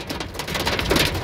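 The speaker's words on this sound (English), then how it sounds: "I've never seen big hail. This is all this little wimpy stuff." Small hailstones patter densely on surfaces during a hailstorm, a loud, continuous crackling hiss over a short stretch with no voices.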